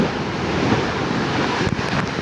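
Sea waves surge along a typhoon-battered beach, a loud, continuous roar of surf mixed with heavy wind buffeting the microphone, with no voices.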